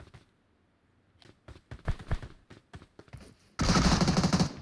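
Gunfire in PUBG Mobile aimed at bots, a series of sharp, spaced single shots followed by a dense, loud automatic burst at the end.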